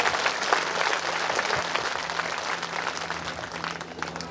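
Loud, sustained applause from an audience at a religious gathering in a village, steady dense clapping throughout with a low steady hum underneath.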